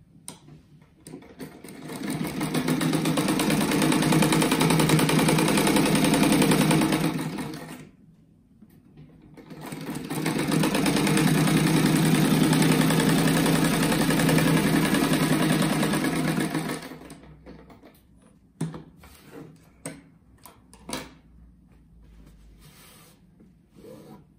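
A sewing machine stitching a kite-themed mat runs in two long continuous bursts of fast, steady whirring, with a short pause between them, then falls into scattered clicks and handling noises.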